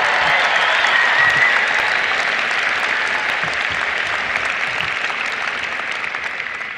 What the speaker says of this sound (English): let's give the biggest round of applause to your parents and anyone else who helped you pay for this education